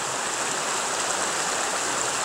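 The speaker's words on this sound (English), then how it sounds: "The sound of the water, so tranquil and peaceful." A small woodland creek in Pennsylvania flows steadily, a continuous close rush and babble of water with no pauses and no voices.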